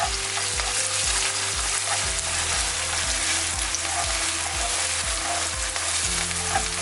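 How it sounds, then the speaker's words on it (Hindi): Onion frying in about three spoons of hot oil for an onion tomato fish masala, a loud continuous close sizzle with a steady pulsing rhythm underneath, no talk. "ऑयल गर्म हुआ तो हमने प्याज डाल दिया इसमें"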